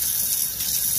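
Tap water runs steadily from a faucet while an older watch is rinsed at a sink, a constant close hissing splash with no talk.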